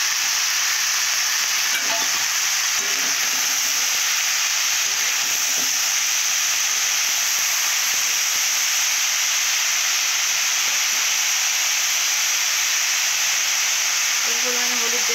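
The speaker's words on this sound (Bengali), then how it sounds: "খুব ভালো করে পেঁয়াজ ভাজবে না, হালকা করে ভাজলে পেঁয়াজের যে সেন্টটা খুব সুন্দর হয়" Onions frying lightly in a pan for a bete shak greens dish, a steady soft sizzle and hiss running throughout with occasional faint stirring clicks, no voices.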